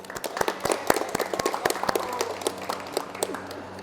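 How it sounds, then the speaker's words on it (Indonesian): Classmates in a lathe-machining class applaud together, a dense burst of hand claps that starts strong and gradually thins out into scattered, slower claps over a low room hum. "Kasih aplaus temannya"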